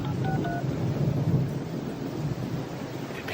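A telephone is dialed to call Camille: a few short touch-tone beeps come quickly near the start, then fade under a steady rumbling, rain-like background noise.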